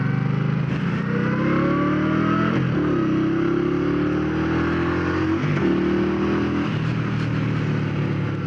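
An Indian Scout motorcycle pulls hard and loud, its engine note climbing steadily, dipping briefly at each gear change, then rising again through successive gears.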